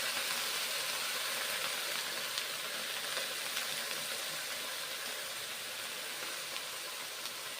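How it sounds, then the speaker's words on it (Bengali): Greens hitting a hot wok with fried brinjal and spices, a soft continuous sizzle and hiss, faint and even, with occasional small crackles and no talk. "কড়াইয়ে এখন শাকগুলো ছেড়ে দিচ্ছি।"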